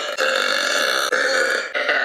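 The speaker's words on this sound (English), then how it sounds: "The best burps." A single long, loud belch with a voiced, rumbling tone runs almost two seconds, broken by two brief catches in breath; no talking.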